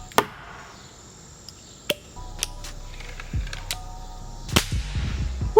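A few sharp, quiet cracks of a break barrel air rifle firing, spaced apart, followed by small clicks and handling noises nearby.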